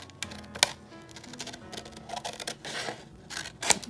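Hearts are cut out of a Valentine's bag, with close, crisp snipping and rustling in an irregular rhythm, a few sharper clicks standing out.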